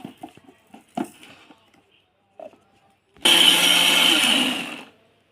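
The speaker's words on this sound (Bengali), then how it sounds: "মিক্সিতে নিয়ে নিয়েছি কিছুটা চিনি এর মধ্যে দিয়ে দেবো এই যে মা আম বানাচ্ছি এটা আবার মিক্সি দিয়ে দেবো" An electric mixer grinder blends mango lassi with sugar, starting after a few light knocks and clatters with a loud, steady whirring roar that runs for nearly two seconds and then cuts off.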